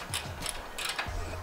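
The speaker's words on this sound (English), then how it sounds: "take your 10 millimeter socket and go ahead and tighten up" A 10 mm socket ratchet tightens the oil drain valve on a Kawasaki FX1000V EFI engine. A few faint, evenly spaced clicks play over a low background hum.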